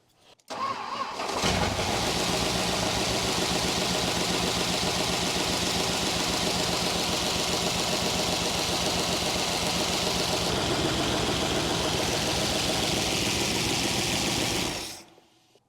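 A 1966 Crown Imperial Mopar big block, abandoned for 21 years, starts up and settles into a steady, loud idle with a busy mechanical chatter, running alone for about thirteen seconds before shutting off.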